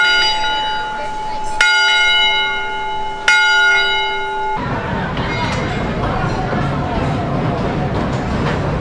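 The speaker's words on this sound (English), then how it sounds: "She's ringing the bell." A hand bell rung inside a schoolhouse-themed attraction at Holiday World theme park in Santa Claus, Indiana, with a few loud, ringing strikes that sustain and decay before giving way to crowd chatter and general noise.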